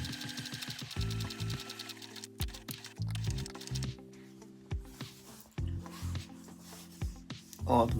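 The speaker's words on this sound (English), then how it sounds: "I'm gonna sew my notches first and then my seam." A sewing machine stitches bra lining seams in quick bursts, each run a steady mechanical whir broken by short pauses and small clicks, fairly close and clear with no one talking over it.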